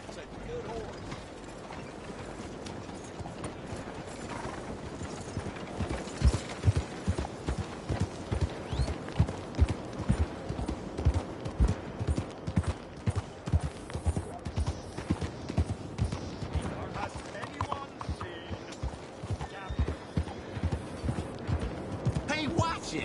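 Horse hooves clip-clop in a steady walking rhythm inside a PS4 video game, mid-loud and continuous over a low ambient hum, with faint mechanical creaks; people talk at times over the hoofbeats.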